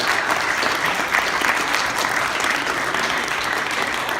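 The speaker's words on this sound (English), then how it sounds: "let's give him a round of applause" Audience at a York College presentation breaks into steady, dense applause, a continuous wash of many hands clapping at even loudness throughout.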